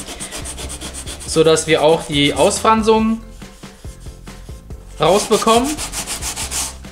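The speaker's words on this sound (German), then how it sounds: "Das heißt, wir schleifen uns das erstmal hier schön frei," Hand sanding of a dented wooden surface during a repair, a soft rhythmic rubbing heard close by under steady German speech.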